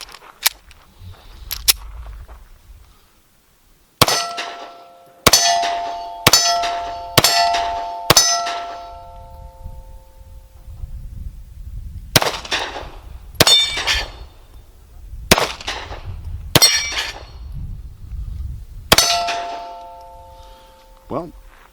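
An S&W CSX 9mm pistol fires jacketed hollow point rounds outdoors, each a sharp ringing crack. Single shots come first, then quick strings of four, with pauses between strings and faint background noise.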